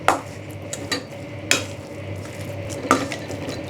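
Wonton filling with a pinch of sugar, egg yolk and spring onion being mixed in a bowl, soft squelching stirs punctuated by three or four sharper clicks of a utensil against the bowl's side.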